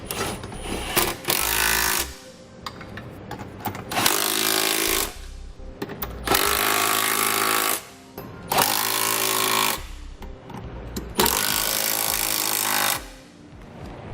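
Power tool snugging down the fasteners on a Curt trailer hitch receiver during installation on a 2011 vehicle, loud rattling impact bursts of a few seconds each, repeated five or six times with short pauses between.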